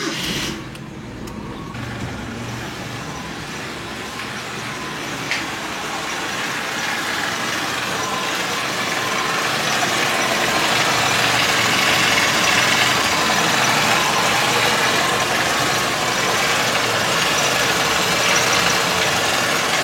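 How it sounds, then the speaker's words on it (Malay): A car engine starts and settles into a steady idle after its EGR valve has been cleaned and refitted, the running note holding close and even and growing slightly louder toward the end. "Jom start engine dan tengok macam mana."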